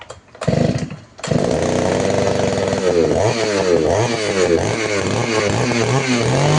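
A small petrol engine on a repair bench, with choke and switch set, is pull-started: two rough coughs, then it catches and runs loud and steady close by, with a buzzy, chainsaw-like drone.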